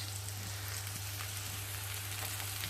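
Food frying in a pan of hot oil, a dense continuous sizzle and crackle heard close, steady throughout with faint low hum beneath.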